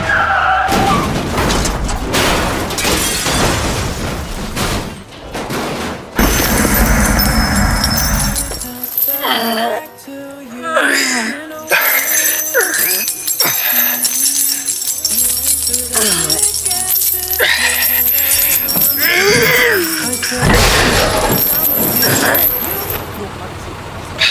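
A serious car crash in a film, with tyres skidding, a heavy impact and glass and metal clinking and shattering, loud and busy over several seconds beside music and other effects, with a narrator talking over it.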